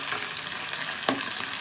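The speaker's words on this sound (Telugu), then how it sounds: "ఆనియన్ను కరివేపాకు వేసేసుకొని మనం ఆనియన్ కొద్దిగా కలర్ వచ్చేంత వరకు వేసుకోవాలి." Onion and curry leaves frying in a pan give a steady, close sizzle throughout, with a brief sharp clink or scrape of a utensil partway through.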